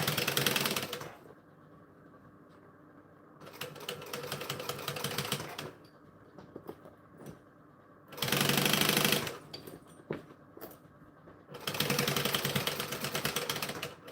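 A sewing machine stitches fabric in several bursts of steady, fast whirring, each run lasting a second or two, loud and close with quiet handling gaps between them.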